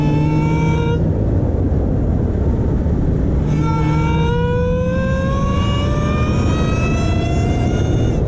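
Dodge Charger SRT Hellcat Redeye accelerating hard, its loud supercharger whine climbing steadily in pitch through the gears over a roaring engine, close and continuous with a brief break at a shift.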